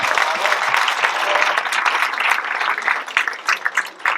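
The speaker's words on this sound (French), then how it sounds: "on va laisser applaudir." Audience applauding at a film premiere in a cinema, dense and sustained clapping that stays loud throughout and thins into scattered claps near the end.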